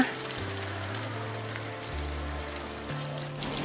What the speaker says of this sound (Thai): พอน้ำมันร้อนนะคะ เอาปลาที่เราคลุกแป้งทอดกรอบบางๆนะคะ ลงทอดได้เลยค่ะ